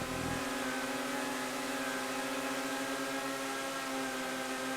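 An FMJ supercar engine drones at high speed during a GTA 5 race, a steady sustained tone held loud and close with no talking.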